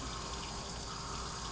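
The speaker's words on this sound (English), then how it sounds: "Now you're washing the bowl." Water runs steadily from a kitchen tap while a bowl is washed, a continuous close rush of flow with no talk over it.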